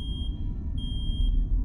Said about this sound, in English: Is that my alarm?